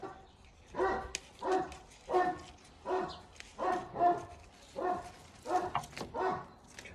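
Dogs bark in a steady run of about a dozen evenly spaced barks, moderately close, with no talking.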